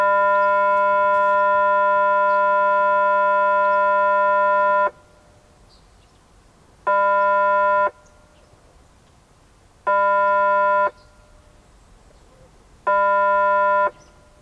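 A ship's fog signal sounds one long blast of about five seconds and then three short blasts, each roughly a second long, spaced evenly. The tone is steady, harmonic and horn-like over a faint background hiss.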